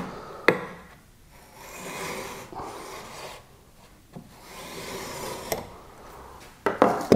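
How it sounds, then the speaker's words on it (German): A marking gauge scores the rebate width into wood, producing soft scraping rubs in several separate strokes, with a few sharp knocks and clicks in between, heard close and quiet. "Ihr solltet euch aber zumindest noch die Falzbreite mit dem Streichmaß vorritzen."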